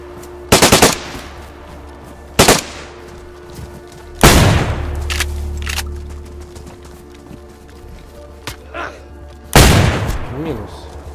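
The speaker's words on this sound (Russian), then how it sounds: "Стреляют." Gunfire in the video game DayZ, several loud, sharp bursts of rapid shots spread across the clip with quieter ambient noise between them.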